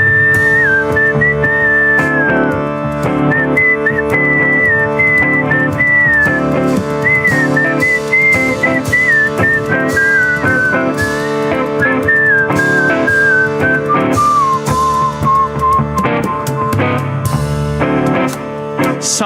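A flute plays a bright, wavering melody over a kirtan band, with the line gliding and ornamenting steadily above dense drums and harmonium-like accompaniment for the full length.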